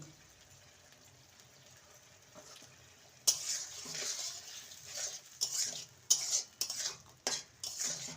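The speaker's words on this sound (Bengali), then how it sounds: "ভালো করে সমস্ত কিছু মিশিয়ে নেব" A spoon stirs spices and Schezwan chutney together for chili brinjal. A quiet stretch gives way to loud, close scraping and clattering against the pan in uneven bursts.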